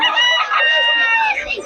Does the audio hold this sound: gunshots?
no